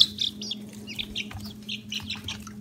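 Soft, repeated clucking and chirpy calls from a few chickens, close by, in short irregular bursts over a low steady hum.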